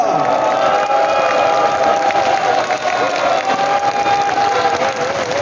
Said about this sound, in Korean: 커다란 박수와 함성을 부탁드립니다